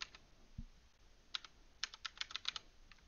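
Keys tapped on a computer keyboard while entering a random password, scattered then quickening clicks that are close and crisp, with a faint background hiss and no speech.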